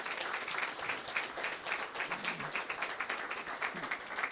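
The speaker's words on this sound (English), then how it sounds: "Big round of applause for that." Applause from a crowd gathered at a ribbon cutting for a new loft development in South Lincoln Park, a steady patter of many hands clapping at moderate distance for about four seconds.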